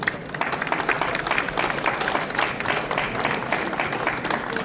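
An audience at the opening of a job and career fair in Ljubljana breaks into dense, continuous applause, a thick wash of clapping that stays even and loud across the whole stretch with no voices over it.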